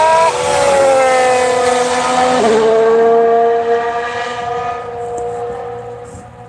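Ferrari Formula 1 car at Barcelona pre-season testing, a high, shrieking engine note that rises as it approaches and passes close by, drops in pitch, then fades into the distance.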